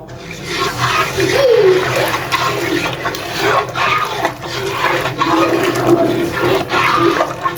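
Tap water runs steadily and fairly loudly while hands are washed in a home kitchen, a continuous splashing rush that lasts the whole stretch.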